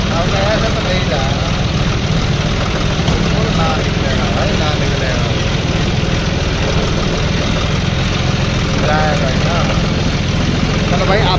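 A Mahindra tractor engine runs steadily and loudly throughout, with a deep continuous rumble that stays even, close by and unbroken, while voices talk over it.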